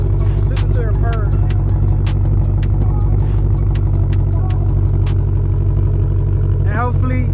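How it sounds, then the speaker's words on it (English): A Ford Shelby GT500's V8 idles with a steady, deep exhaust rumble, loud and close throughout, while someone talks over it. "You hear the exhaust. Hear that idle. That idle is amazing."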